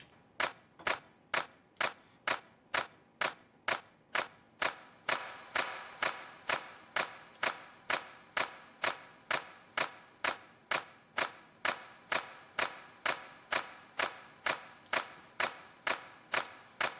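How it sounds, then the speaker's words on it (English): A synthesized clap with added reverb repeats in a steady, evenly spaced pattern, roughly two hits per second, each sharp attack trailing into a short roomy tail, alone and fairly quiet with no voices. "Just try a bit of reverb on the clap."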